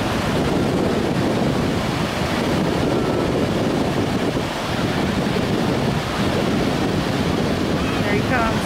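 Ocean waves roll in at a beach in a loud, continuous roar of surf, heavily buffeted by wind noise on the microphone, with a brief dip midway.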